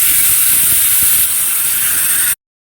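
A pressure cooker cooking basanti pulao and rezala mutton vents steam as its whistle weight is lifted, a loud continuous close hiss that holds steady for over two seconds and then cuts off abruptly into silence.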